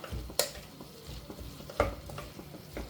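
Chicken curry ingredients are stirred in an open pressure cooker, with a soft sizzle and a few sharp metal scrapes and clinks of the spoon against the pot, close and quiet, no talk.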